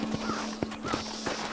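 Horse hooves clip-clop in the Red Dead Redemption video game, a quick run of sharp, close hoofbeats repeating steadily and loudly with no voices.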